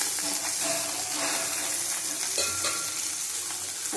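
Parshe fish frying in a small wok of hot oil, making a loud, dense, unbroken sizzle and crackle up close for the whole stretch, with no talking.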